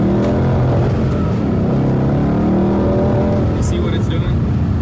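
A car engine roars loudly and continuously as it struggles under acceleration, the tone wavering and labouring instead of climbing cleanly; a voice talks over the engine noise.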